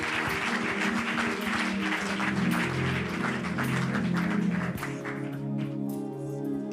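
A church congregation applauds during a service, a dense steady wash of clapping that thins out toward the end.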